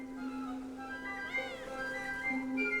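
A kitten cries near a disabled tank on a battlefield. Thin, rising-and-falling meows sound clearly over a steady low hum.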